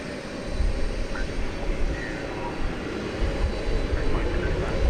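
PSA American Airlines jet airliner on flight 2235 to Denver at DFW Airport: a steady, loud, broadband engine roar that holds for the whole stretch, with a person talking over it.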